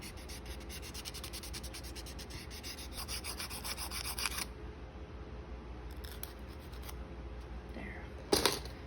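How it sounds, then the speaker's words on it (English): Close, steady rasping and rubbing of a buffer across a gel polish swatch tip to take off its shine, continuous for several seconds before easing off, with a sharper scrape near the end. "I like to go ahead and buff it like I would a press-on nail"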